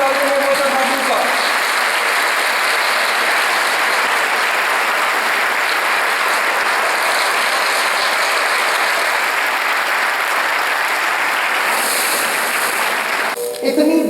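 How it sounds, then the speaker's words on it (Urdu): Sustained, loud audience applause at a motivational talk, thick even clapping that carries on for over ten seconds before it breaks off near the end, with voices faintly audible beneath. "تالیاں رکنے نہیں چاہیے"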